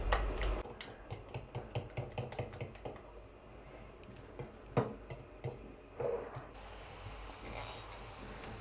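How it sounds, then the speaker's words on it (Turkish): Eggs are whisked with a fork in a bowl for a potato-and-egg breakfast dish, a rapid train of light clicking taps that stays fairly steady and close, with a few louder knocks near the end. "Ve çatalla iyice karıştırmaya başlıyorum."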